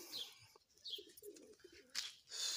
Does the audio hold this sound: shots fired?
no